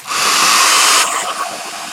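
Heat tool blowing to dry diluted paint on a booklet cover, a loud steady airy hiss for about a second that then drops to a quieter continuing blow, close to the listener.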